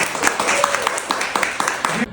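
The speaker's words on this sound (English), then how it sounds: "Everybody, a round of applause for these beautiful curls" During a hairstyling class, a small group gives a round of applause for freshly styled curls. The light, scattered claps sit under ongoing talking.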